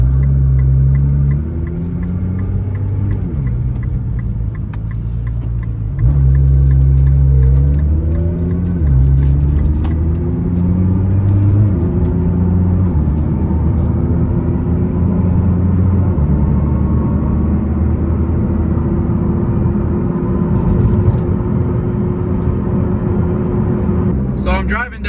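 A Nissan GT-R with a flashing check engine light drives on a street, its engine droning loud and steady with rising and falling pitch as it shifts through gears, a continuous close rumble throughout.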